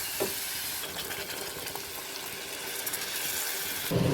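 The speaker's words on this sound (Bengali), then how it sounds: "তারপর আমরা জল দিয়ে দেবো।" Water is poured into spiced masala frying in oil for chana masala, giving a steady hiss and bubbling sizzle at close range with a louder burst near the end. No one speaks.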